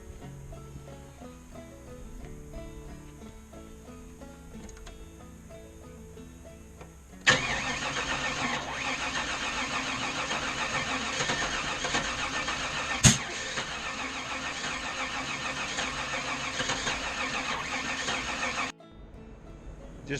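A small engine is cranked and sputters, then breaks into a loud, broadband running roar partway through with a sharp pop as it backfires through the intake, before cutting off near the end; no talking.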